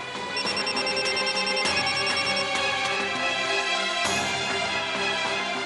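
A telephone rings in a domestic scene from a Hindi TV drama, a steady bright electronic ringing that runs continuously for several seconds with brief breaks, loud and alone without speech.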